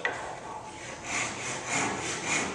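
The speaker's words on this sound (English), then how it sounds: "Some key points to sawing is to make sure your finger follows down the side of the saw." A tenon saw with a heavy brass back cuts through wood for a half lap joint in steady, rasping strokes that grow louder partway through, with no voices.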